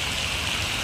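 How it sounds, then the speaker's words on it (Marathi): Heavy monsoon rain pours down outdoors near a bridge in Badlapur, a dense, loud, unbroken roar of falling water with no pauses. "पाऊस तर जाम पडतोय"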